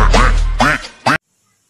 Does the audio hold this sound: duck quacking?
yes